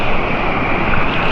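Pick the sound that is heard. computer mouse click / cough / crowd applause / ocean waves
ocean waves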